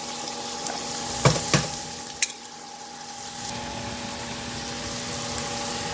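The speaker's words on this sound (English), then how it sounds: "stirring it around allows most of the moisture to evaporate quicker." Grass-fed beef with shiitake mushrooms and long beans stir-frying in a pan, with a soft continuous sizzle and a few sharp utensil clacks early on, steady and fairly quiet, without talk.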